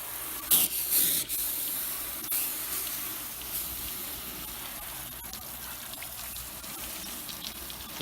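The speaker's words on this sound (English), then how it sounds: "I can go ahead and I will hose that off" A garden hose sprays water in a steady hiss against a van, louder splashy bursts at first, then settling into a continuous spray against the surface.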